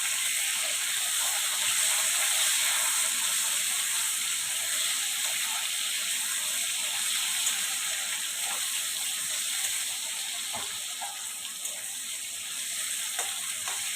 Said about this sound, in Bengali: একটু তেল বেশি দিয়েছি, আলুটা ফ্রাই করতে একটু তেল বেশি লাগে।